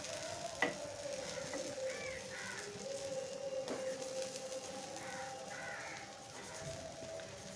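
A paneer paratha fries in refined oil on a pan, giving a soft, steady sizzle close by, with a couple of sharp utensil clicks and faint bird caws in the background.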